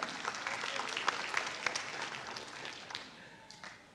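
Applause from a church audience during a sermon, a steady patter of many hands clapping that gradually fades toward the end.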